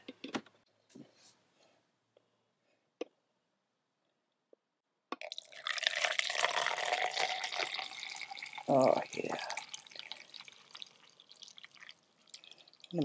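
Freshly brewed coffee pouring from a Zojirushi EC-ESC120 dome coffee maker carafe, a steady liquid stream after a few quiet clicks, close and moderately loud, with a brief spoken exclamation.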